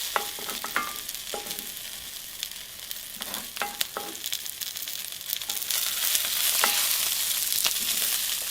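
Onions and chile fry in bacon fat for a Mexican beef stew, a steady close sizzle broken by occasional light clicks and scrapes of stirring.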